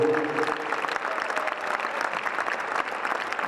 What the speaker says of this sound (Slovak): Takže pre nich jeden veľký potlesk.